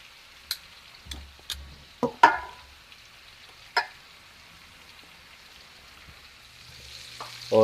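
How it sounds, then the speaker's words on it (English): Oxtail pieces fry gently in a pan for Jamaican curry, a soft steady sizzle punctuated by several sharp clinks and taps, close and without talk. "now I'm just frying them just a little bit"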